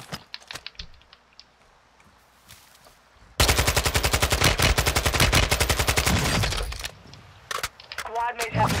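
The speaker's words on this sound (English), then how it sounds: "Oh, I'm being shot, I'm gonna die." Rapid automatic gunfire in a Modern Warfare (2022) battle royale match, a loud sustained burst of closely spaced shots lasting several seconds, with quieter scattered shots and a player talking before and after.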